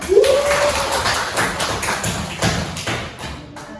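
A classroom of students claps their hands during a microteaching lesson. The applause is a loose, uneven patter of claps at moderate distance, with no talking, thinning out toward the end.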